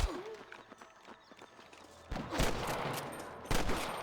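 Gunfire in Red Dead Redemption: a few sharp shots crack amid faint footsteps and horse movement, with two louder reports at mid-distance, all fairly quiet.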